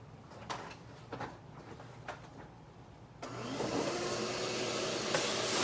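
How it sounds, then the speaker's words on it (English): A vacuum cleaner removing dust from a vintage Gibson J-30 acoustic guitar during a bridge reset switches on partway through with a sudden broadband roar, then runs steadily and fairly loud after a few quieter scraping sounds. "I'm going to go ahead and vacuum off the dust"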